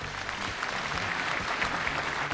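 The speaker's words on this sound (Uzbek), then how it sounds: "Olqishlaringiz." Studio audience on a TV game show breaks into steady clapping, a dense, even burst of applause lasting a couple of seconds with no voices over it.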